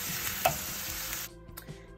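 Herbs gently cooking with vegetables in a pot give a soft sizzle with a light stir or clink, then the frying sound drops away abruptly near the end of the short stretch.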